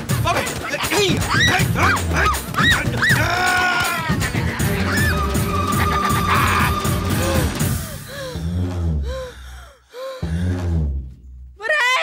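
A dog barks in repeated bursts, loud and close, mixed with agitated shouting voices that grow more sporadic toward the end.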